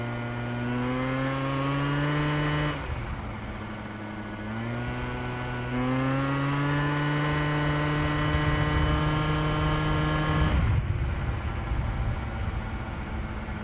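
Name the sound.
Yamaha Jog 70cc two-stroke scooter engine at speed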